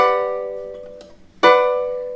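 A ukulele chord plucked upward rings and fades, followed by a brief scrape and then a second bright strummed chord ringing out, with no voices.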